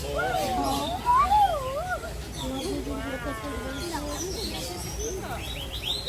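A bird at Disney's Animal Kingdom gives warbling, whistling calls in short bursts, fairly close, while people chat softly nearby amid park background noise.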